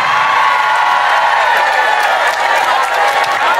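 A packed crowd at a Ramadan religious gathering in South Papua applauds loudly and continuously, with dense clapping mixed with cheers and shouts.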